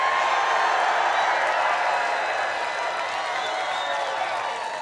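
Dense rally crowd at a Trump campaign event in Mosinee, Wisconsin, applauding and cheering steadily throughout, a broad loud wash of clapping with scattered whoops that eases slightly toward the end.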